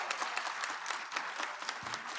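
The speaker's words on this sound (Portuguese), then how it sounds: "Vamos aplaudir mais fortemente a Irene." An audience at a national literacy seminar applauds steadily at a moderate distance, the clapping dense and continuous without voices.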